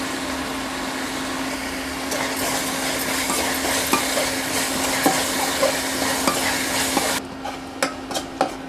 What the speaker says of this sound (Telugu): ఉల్లిపాయ పేస్ట్ త్వరగా వేగటానికి సరిపడే కళ్ళుప్పుని వేసుకుని మీడియం ఫ్లేమ్లో కాసేపు వేగనివ్వాలి